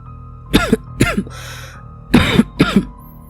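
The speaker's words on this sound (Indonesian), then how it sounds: "Tenggorokannya terasa gatal. Dia pun terbatuk-batuk." Four sharp coughs in two pairs, close and fairly loud, with a short raspy breath between them.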